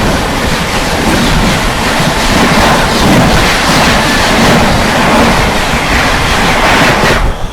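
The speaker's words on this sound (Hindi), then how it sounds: "सामने से आ रही है न्यू दिल्ली से चलकर लखनऊ की ओर जाने वाली स्वर्ण शताब्दी एक्सप्रेस।" A Swarna Shatabdi Express on the New Delhi–Lucknow run rushes past at close range, a loud, steady roar of wheels and carriages that holds for several seconds before easing off at the end.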